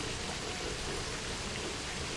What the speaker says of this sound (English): oh, raining outside